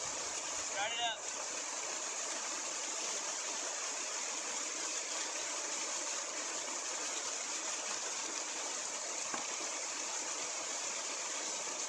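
Creek water pouring steadily into a bucket at a narrow point in a stream, a constant loud rushing and splashing that runs unbroken throughout.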